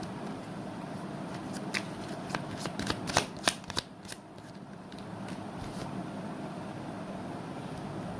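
A deck of tarot cards is shuffled by hand during a card reading, with a quick run of crisp riffling snaps in the middle over a steady soft background hiss.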